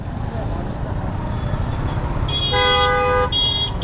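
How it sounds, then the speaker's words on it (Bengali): Road traffic hums close by, then a loud, sustained vehicle horn blares, stops briefly and sounds again as a second blast, with voices talking over the traffic. "হর্ন দেয় খালি"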